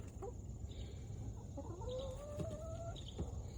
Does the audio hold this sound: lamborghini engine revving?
no